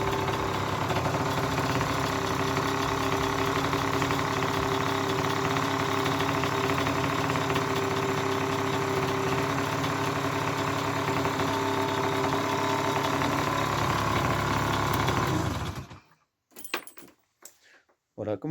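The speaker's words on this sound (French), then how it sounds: "il tient parfaitement le ralenti" A scooter engine idles steadily after its exhaust gasket was redone, a continuous close mechanical hum with a light rattle, cutting out abruptly near the end and followed by a few brief knocks.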